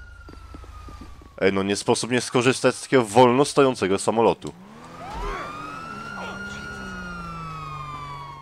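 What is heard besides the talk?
police siren in video game GTA V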